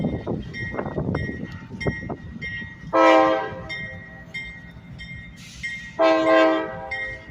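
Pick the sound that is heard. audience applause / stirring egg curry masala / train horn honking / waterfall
train horn honking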